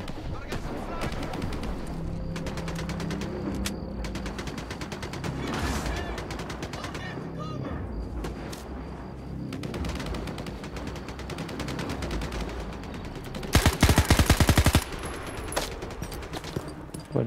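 Gunfire in Stalker 2: Heart of Chornobyl, a modded playthrough, with bursts of shots and rapid automatic fire amid game ambience, and a loud intense volley near the end.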